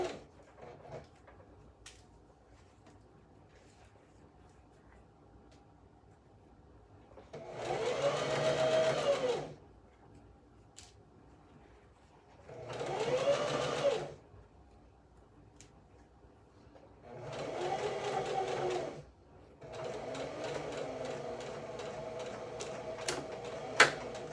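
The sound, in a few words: sewing machine sewing ruffles on a dress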